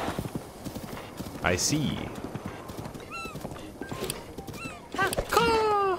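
Horse hooves clip-clopping and a brief neigh from a horse in Zelda: Breath of the Wild, with game effects chiming over the top and a player talking throughout.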